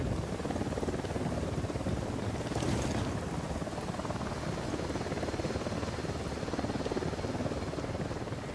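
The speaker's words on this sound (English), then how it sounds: "Helicopter incoming." A helicopter closes in during a Ghost Recon Wildlands mission, a steady broadband rotor roar holding loud and even throughout with a slight swell near the three-second mark.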